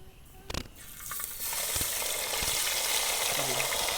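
Fish coated in masala frying in hot oil in a pan: a steady, loud sizzle that rises after a short quieter start and holds, with a few clicks and stirring sounds, no talking.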